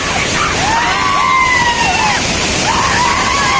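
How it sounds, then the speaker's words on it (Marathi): A steady roar of rushing water from a waterfall fills the background while faint voices and whistle-like tones drift over it. "अरे धबधबा तर दाखवतो पहिला"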